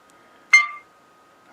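A single short electronic chime from a Famtek Combadge communicator badge rings out once as it connects to a phone, bright and clear, then decays quickly into quiet.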